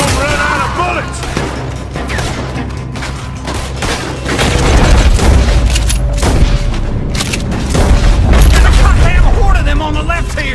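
Gunfire rings out in a Red Dead Redemption 2 shootout, a dense run of booming shots and fusillades stacked over a busy mix of voices and game sound, growing heavier and louder in the second half.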